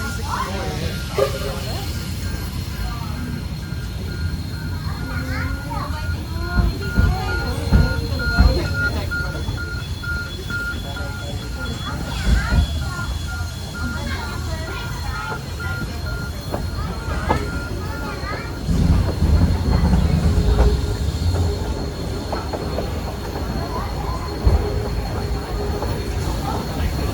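The DownsSteam BB18/¼ steam locomotive hauls a train on the Toowoomba to Drayton line, with continuous rail rumble, wheel clatter and occasional squeals heard from on board, while people talk throughout.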